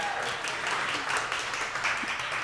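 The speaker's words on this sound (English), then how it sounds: "So everybody give a round of applause for Lucia" Audience applause at a Women in Wireless panel discussion: a steady, dense wash of clapping from the room that holds at an even level for a couple of seconds.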